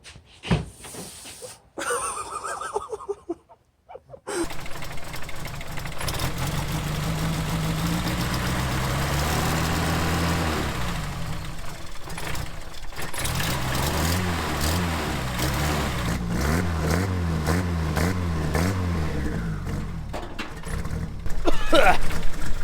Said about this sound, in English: her idle's a little low, and there's a couple extra noises